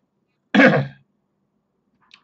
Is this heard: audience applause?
no